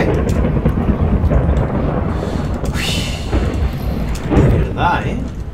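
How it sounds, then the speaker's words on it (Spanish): Rain and rolling thunder from the game Minecraft, a steady broadband downpour with a couple of louder thunder swells, loud and continuous throughout. "¡Para de llover!"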